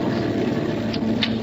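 Steady, loud engine drone fills an airplane cabin in flight, a broad constant rumble with a low hum and faint higher hiss, no talk over it.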